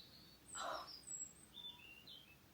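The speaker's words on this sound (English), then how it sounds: "Can you hear the birds singing?" Faint birds chirp and twitter outside an open window at a distance, a few short high calls over quiet background hiss.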